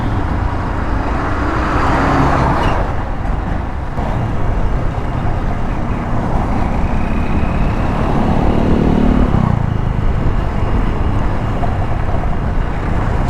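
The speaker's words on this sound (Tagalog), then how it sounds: "Ito pa truck de karga." A cargo truck rolls by on a coastal national highway in Cotabato, Mindanao, as a loud, sustained roar of engine and road noise, with swells around the middle and near the end as it passes.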